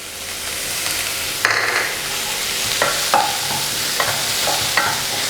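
Green chilies sizzle steadily in a hot pan of oil while a spoon stirs them, scraping and knocking against the metal in a few sharp strokes, close and clear with no talking.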